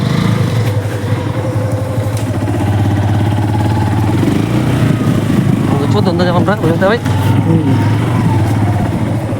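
A motorcycle engine runs close by with a low steady drone and rumble, while someone talks over it throughout.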